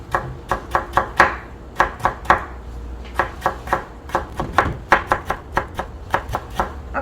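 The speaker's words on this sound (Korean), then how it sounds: "아까 편썰기 했던 두께만큼 얇게 채썰기를 해주셔야 됩니다." A knife taps quickly on a cutting board while thinly julienning radish, giving a close, even run of crisp chops in steady bursts with brief pauses and no talk.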